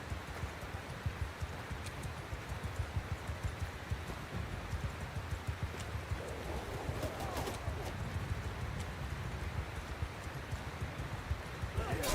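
Horse hooves clip-clop steadily in the video game Bannerlord 2, a low, continuous rhythmic patter running beneath the game's ambient battlefield noise.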